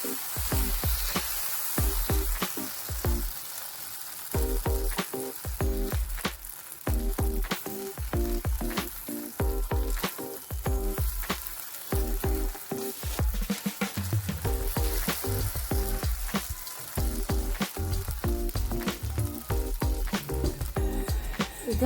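Spinach cheela batter sizzles in a hot pan after being spread round like a dosa, giving a steady crackling fry with repeated scraping and stirring strokes throughout and no talking.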